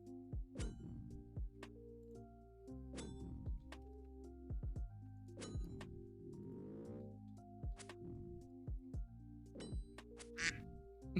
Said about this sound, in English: I think there's a duck outside my house